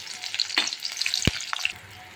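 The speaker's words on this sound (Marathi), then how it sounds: "आता आपण जिऱ्याची फोडणी घालणार आहोत." Cumin seeds sputter in hot oil for a tempering, crackling and popping in quick bright bursts with one sharp low thump.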